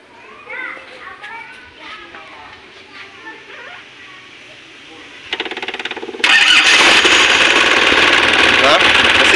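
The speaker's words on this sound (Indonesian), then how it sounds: "Nah, mesin udah mulai stabil." A diesel car engine turns over after injection pump work and catches, settling into a loud, steady idle, preceded by children playing and chattering in the background.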